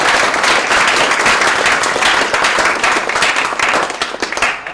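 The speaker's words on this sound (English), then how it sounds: "join me in an applause for everyone" A large audience at a hackathon presentation event claps for the presenters, a dense and loud burst of applause that runs unbroken and then thins slightly near the end.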